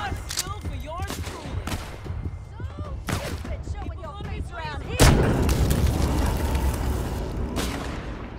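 Gunfire and booming shots in the VR zombie game The Walking Dead: Saints & Sinners, a pistol among them, crack out repeatedly amid a busy, loud scene, with a heavier blast at the midpoint and a person talking over parts of it.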